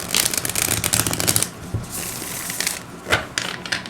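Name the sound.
shuffling tarot cards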